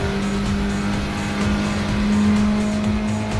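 A race car engine accelerating hard at Le Mans in a racing game, loud and sustained with a strong steady tone and rapid shifting revs, alone without talk.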